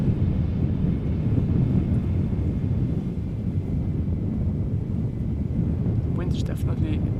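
An Airbus A380 arriving from Dubai lands at Amsterdam Schiphol Airport in windy weather: a steady, heavy low roar fills the whole stretch, with wind buffeting the microphone throughout.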